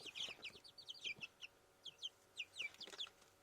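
Two-day-old chicks kept inside a washing machine drum peep and chirp in quick, repeated high bursts, close by and fairly soft, with no talking.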